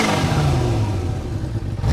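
Reflashed 2017 Kawasaki Ninja H2 motorcycle accelerating, a loud, close engine roar with a low, steady drone that holds strong through a short burst.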